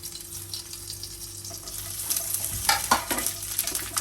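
A crushed dried fish mixture roasts in oil in a pan, a low steady sizzle joined midway by louder scraping stirs and clattering utensil strokes.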